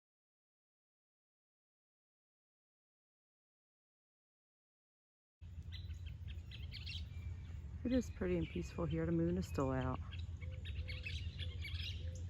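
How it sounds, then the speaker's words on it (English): Birds chirp at dawn in the background of a quiet outdoor scene while a person talks briefly over the calls. "Birds are chirping."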